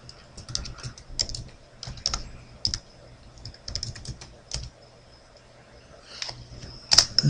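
Keystrokes on a computer keyboard as a ping command is entered at a command prompt, irregular bursts of close clicks with short pauses between runs and a louder cluster near the end.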